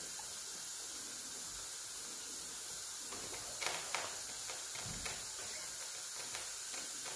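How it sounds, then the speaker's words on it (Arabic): A kitchen pan is rinsed under steady running water, a soft continuous hiss broken by a few faint clinks and knocks. "نعاود نغسل الكشتينه ونزيد نعاود"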